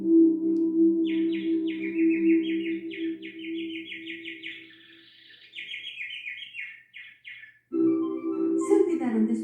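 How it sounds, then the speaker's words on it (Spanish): A small bird sings a fast run of bright, trilled chirps for several seconds, with someone speaking before and after the song. "El pájaro cantaba con su hermosa voz para ellos."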